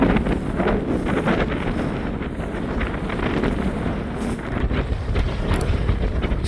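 Strong wind blows along the coast at Yantlet Creek, a constant loud roaring rush buffeting the microphone with no pauses or voices.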